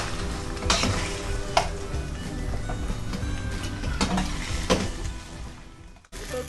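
Half a kilogram of small-cut chicken pieces frying in a pan for a Hyderabadi chicken achari with mango pickle, with a steady loud sizzle and a few sharp stirring scrapes of a spoon against the pan; no talking.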